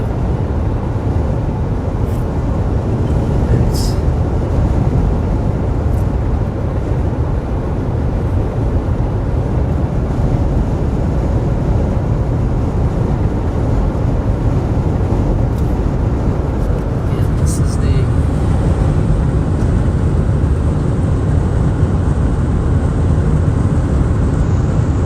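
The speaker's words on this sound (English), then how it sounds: "The wind has picked up." Strong storm wind roars steadily in the open during tornado-warned storms in Illinois and Indiana, a dense, continuous rumble buffeting the microphone for the whole stretch with no letup.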